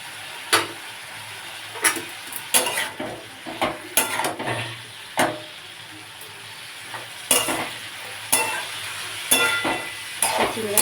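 Thinly sliced onions fry in oil with snake gourd, a low sizzle broken by repeated sharp clinks and scrapes of a spatula stirring against the pan.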